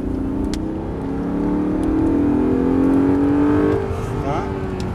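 An Audi R8 accelerates at full throttle on a driving circuit. The loud, close engine note climbs steadily in pitch for several seconds, with a voice faintly audible in the background.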